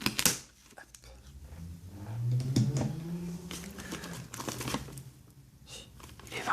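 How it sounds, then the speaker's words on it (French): Scissors snip and slice open a cardboard Pokémon Mega Charizard Y collector box up close, with crisp cutting, rustling and crinkling of packaging in bursts, and a soft voice murmuring in between. "Allez, je prends les ciseaux."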